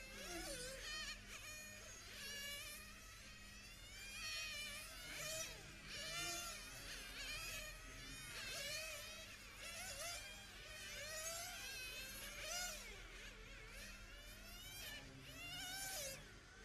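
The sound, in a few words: 1/10 IC RC cars going into the pit lane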